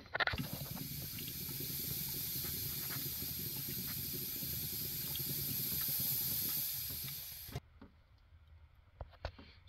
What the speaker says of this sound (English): It's dripping over there.